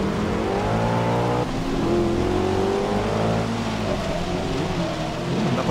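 An Audi RS6 Avant engine accelerating in Forza Motorsport 6, a loud, steady roar with rising and falling revs that carries without a break from start to finish, no voices over it.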